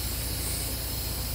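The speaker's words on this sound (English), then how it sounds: "releasing the brakes" Air brakes on a tractor-trailer release with a steady, loud hiss of escaping air, a continuous rush sustained through the whole moment.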